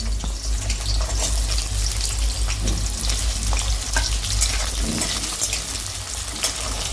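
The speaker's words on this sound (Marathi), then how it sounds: "आता याच्यामध्ये आपण तेल गरम झालेलं आहे आता हा कांदा टाकूया" Onion hitting hot oil for Kolhapuri misal, a loud, dense crackling fry with a steady low hum and scattered stirring clinks, close up and continuous, with no voices.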